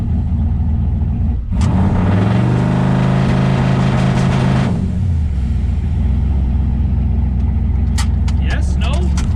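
A twin turbo Chevrolet Malibu engine holds a loud, steady drone, climbs into a revving surge on the trans brake, then settles back to a rumbling idle, close and dominant throughout.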